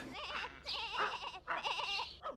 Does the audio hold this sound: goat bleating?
yes